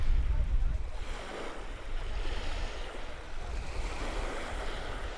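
Ocean waves wash steadily onto a Maldives resort beach, a continuous surging roar with wind buffeting the microphone throughout.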